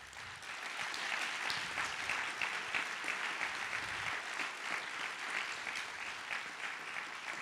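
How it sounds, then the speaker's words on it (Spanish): An auditorium audience applauds a speaker after a talk on fear, a dense, sustained wash of many hands clapping at an even level throughout. No voices rise above it. "Un gran aplauso a Joseph Ledoux."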